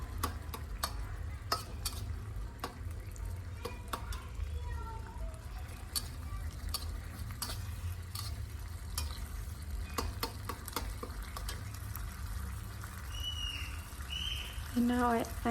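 Pork paste for Cambodian bread frying in a pan, a low steady sizzle with frequent rapid ticking scrapes of a spatula stirring, plus a little murmured talk and some clatter near the end.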